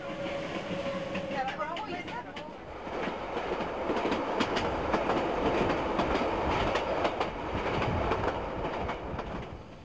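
A locomotive of the Emu Bay Railway pulling passenger carriages on the Derwent Line rumbles steadily along the tracks with rhythmic clattering and some squealing, a continuous loud rolling noise with voices faintly mixed in.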